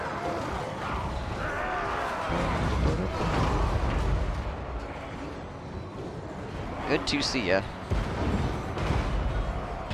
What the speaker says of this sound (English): Cannon's getting some shots off, so that's good.